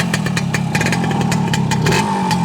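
A 1972 Kawasaki G3SS 90 motorcycle with a carbureted rotary-valve engine runs up close, a loud, steady buzzing idle with quick popping exhaust pulses and slight rises in revs.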